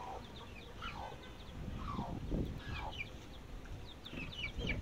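Several chickens cluck softly on a farm, a mother hen among her chicks, with short calls scattered across the clip over a steady low background and no talk.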